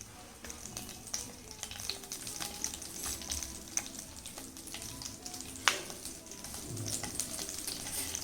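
Cumin seeds frying in a hot pan (a flat griddle) while a chili and gongura pickle is prepared, producing a soft, steady sizzle and crackle with scattered small pops, faint and close, with no talk.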